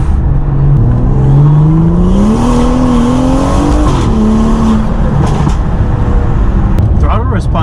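A BMW B58 engine fitted with a CTS Turbo intake revs steadily, its deep rising and falling drone loud and close, with intake whoosh and a person talking briefly near the end.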